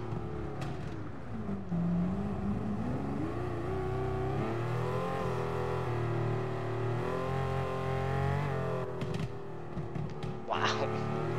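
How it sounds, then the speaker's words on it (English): A Gran Turismo Sport race car holds a steady, loud engine drone that climbs and dips through gear changes, broken by crackling exhaust pops and a brief whistling blow-off near the end. "Oh god, you can really hear the popping now."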